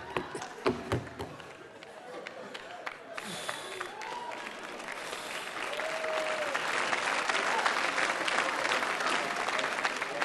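Audience applause at a carnival comedy show in Saarbrücken: a few voices and early claps, then applause that swells into a steady, sustained roar.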